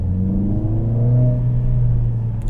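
A 2022 Mercedes CLA45s accelerating hard through its gears with paddle shifters, engine tone climbing steadily in a loud, close in-cabin drone with no talk.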